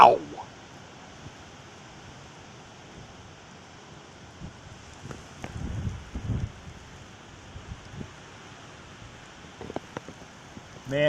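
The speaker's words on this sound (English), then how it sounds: "look at how much the rain's blowing now" Heavy rain driven by high wind during a thunderstorm in Rochester, a steady broadband wash of rain and gusts with louder bursts midway, while someone talks over it.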